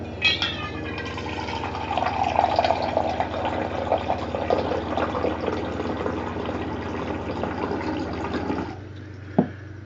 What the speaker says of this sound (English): Let's get some water.